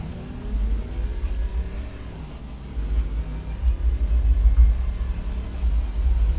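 A race car is driven on track in the Assetto Corsa Competizione racing game, its engine a steady low rumbling drone that swells and eases, with no talking.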